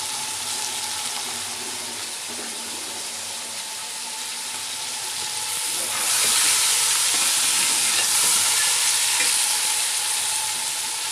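Tomatoes for chicken biryani frying and being stirred in a pan, a loud continuous sizzle with soft scraping, swelling noticeably louder midway as more moisture hits the hot oil.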